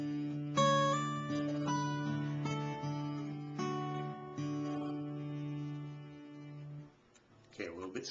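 Slow, deliberate acoustic guitar fingerpicking in a country-folk song, the thumb alternating between the sixth and fourth strings; single notes ring out one by one, clear and close with no talking, then fade out near the end.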